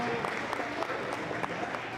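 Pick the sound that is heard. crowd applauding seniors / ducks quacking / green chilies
crowd applauding seniors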